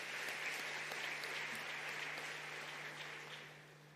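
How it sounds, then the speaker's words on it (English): Applause in a plenary hall during a declaration adoption session: sustained, dense clapping from a large audience. It holds steady throughout and thins slightly at the end, with a faint low hum underneath. "Let us give them a round of applause"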